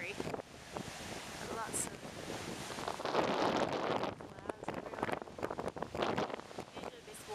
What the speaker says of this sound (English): The ocean today is pretty angry.